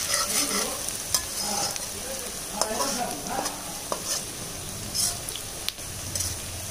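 Young goat mutton sizzles as it goes into a pan of fried onion and spices, with repeated sharp spatula knocks and scrapes over a steady frying hiss close by.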